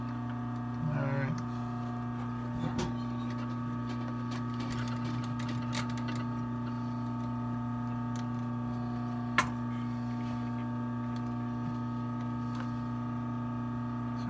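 A sewing machine hums steadily while stitching leather during a Tony Lama cowboy boot restoration, a constant motor drone broken by occasional sharp ticks and a brief whirring burst near the start.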